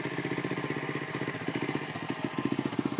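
A pit bike engine with a stock exhaust idles and revs nearby, a rough, loud, pulsing mechanical chug with a steady rhythmic beat that grows a little punchier toward the end.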